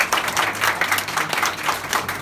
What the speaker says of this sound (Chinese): 掌声响起好不好？